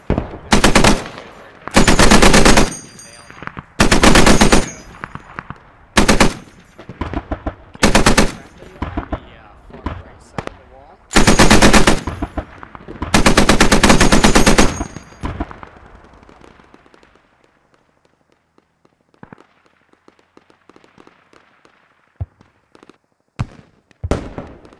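Heavy machine gun fire in the video game Squad: long, loud sustained bursts rattle in rapid succession for the first fifteen seconds, then fade to sparse distant shots and a few final sharp cracks.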